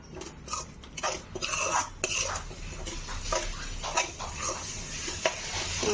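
A spoon repeatedly scrapes and clinks against a pan as whole masoor lentil curry with goda masala and coriander is stirred. The strokes are close and uneven over a soft background sizzle.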